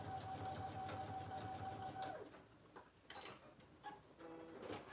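A sewing machine runs a top stitch along a fabric bag, its steady fast mechanical whir close and moderately quiet. It stops after about two seconds and gives way to faint clicks and handling.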